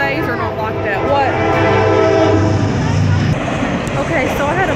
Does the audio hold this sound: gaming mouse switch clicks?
no